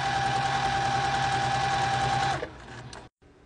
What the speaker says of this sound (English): lay your accent fabric pretty side to pretty side, and then stitch a 1/4 inch seam